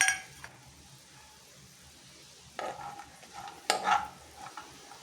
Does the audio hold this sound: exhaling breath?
no